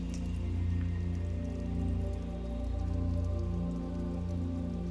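Steady rain patters and drips on a surface nearby, a continuous soothing wash of droplets beneath a low hum.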